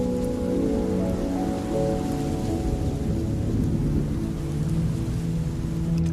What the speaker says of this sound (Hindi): बारिश तो रुक गई।